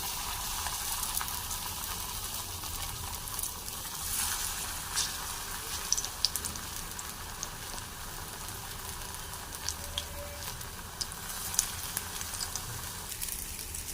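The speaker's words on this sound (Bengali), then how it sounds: "বড়াটা ভেজে নেব কড়াইতে তেল দিয়ে দিয়েছি এবার তেলটা গরম হোক তারপরে বড়াটা এক একটা দেব" Steady crackling sizzle of sago mixed fritters frying in hot oil in a kadai, continuous and close, with small pops scattered throughout and no voices.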